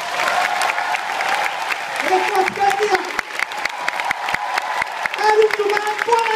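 Crowd applause fills an Amway Diamond Recognition Night hall, a steady patter of many clapping hands, loud and close, while someone speaks over it through a microphone.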